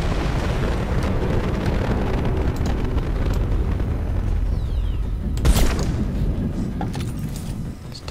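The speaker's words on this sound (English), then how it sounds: "Big explosion, come on." A loud, rumbling explosion in the video game Mass Effect 2 rolls under steady game noise, with a sharp burst and crackling debris toward the end.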